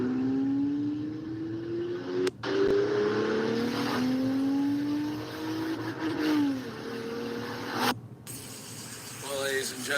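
A freshly rebuilt Ford Mustang engine runs and revs loudly up close, its pitch climbing and falling through repeated throttle sweeps, with a brief dropout near the end.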